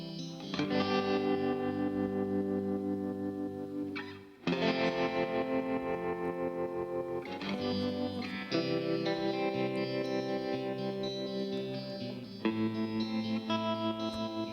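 Two electric guitars strum sustained chords with a pulsing, wavering volume effect, trading off against each other, loud and continuous with a short break midway.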